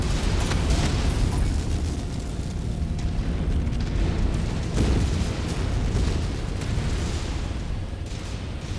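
Heavy explosions boom from a destroyed enemy mech in the MechWarrior 5 combat game, a loud, dense rumble that keeps going with sharper bursts near the start and around the middle.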